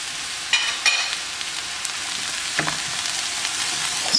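Onions with a teaspoon of garlic frying in a pan, a soft continuous sizzle with a few sharper clicks and scrapes from stirring, close by and with no talk over it.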